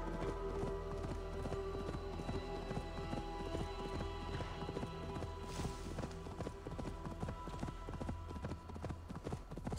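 Horse hooves clip-clop steadily at a running gait in the Viking-era game Assassin's Creed Valhalla, a continuous rhythmic patter over a constant ambient music and environment bed, with no talking.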